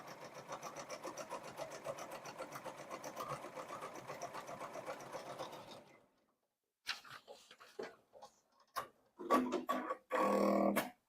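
An embroidery sewing machine stitches a satin stitch in a fast, continuous mechanical chatter for several seconds, then stops, followed by scattered handling clicks and brief bursts of machine noise.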